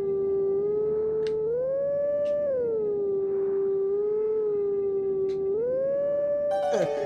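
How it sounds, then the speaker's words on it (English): Wolf Link howling the Song of Soaring in The Legend of Zelda: Twilight Princess, a clear, sustained wolf howl that steps up and down between long held notes across several phrases. "I think it's the Song of Soaring"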